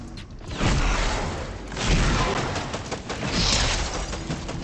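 Gunfire in a video game: continuous rattling bursts and booming crashes fill the whole stretch, loud and busy, with brief surges and no clear pauses between shots.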